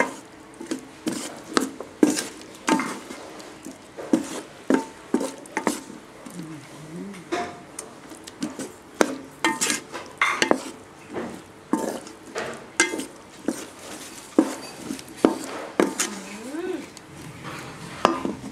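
Stir-fried mixed vegetables with shrimp being scooped from a pan onto a plate: repeated scraping, clinking utensil strikes in an irregular rhythm, close and fairly loud, with someone talking between them.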